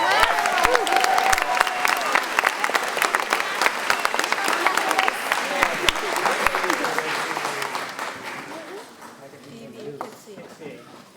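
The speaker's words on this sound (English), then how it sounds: "I'd like to say a special round of applause for Mr. Joy" A school concert audience applauds steadily for a retiring teacher at Shipley's spring Lower School concert, the dense clapping fading gradually toward the end.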